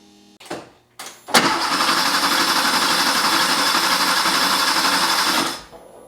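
A 1974 Porsche 911 engine cranks but won't start. Two short bursts come first, then a steady loud whirring crank holds for about four seconds before cutting off, close up.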